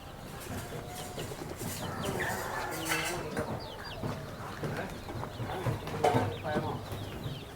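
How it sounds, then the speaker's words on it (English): Chickens cluck beside a canal in foggy, misty weather, the calls soft and scattered through a steady outdoor murmur, with a louder burst near the end. "Wow, chickens"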